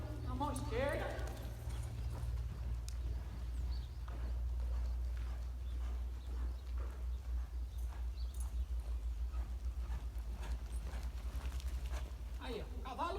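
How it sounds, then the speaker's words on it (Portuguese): A horse gallops in a left-lead canter during a training session, its rhythmic hoofbeats running steadily throughout under a persistent low rumble, with a rider's voice speaking over the start and end. "Vou pôr meu cavalo galopando na mão esquerda."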